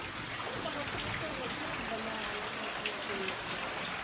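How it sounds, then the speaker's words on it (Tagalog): Heavy rain pours in a dense, steady hiss during a flood, with a faint voice underneath. "lakas ng ulan, oh"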